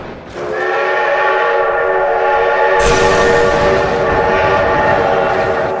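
Loud, sustained multi-tone train horn in a vehicle video game blares as the train passes close by, with a rushing rumble surging partway through.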